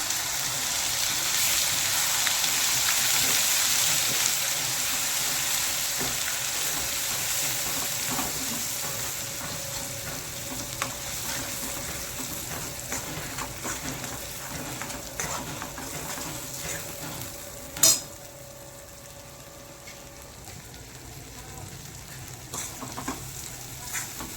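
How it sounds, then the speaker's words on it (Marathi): Masala paste made with red chili and black masala cooks in a pan for a mixed vegetable dish, giving a continuous close sizzle with scattered stirring clicks and one sharp knock near the end. "हे वाटण दोन ते तीन मिनिट छान शिजून घेऊया"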